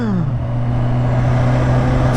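Kawasaki Ninja H2 motorcycle engine droning steadily while being ridden, a continuous close hum with a slight pitch drop at the start and wind noise throughout.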